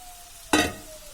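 Chopped carrots, beans, potato and peas for veg pulao hit a hot pan in one sudden, loud sizzle that swells and then quickly settles back into a softer hiss.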